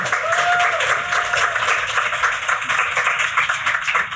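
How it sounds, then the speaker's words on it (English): A live audience at a podcast recording applauds warmly, steady dense clapping from many people throughout, close and fairly loud. "give him a round of applause."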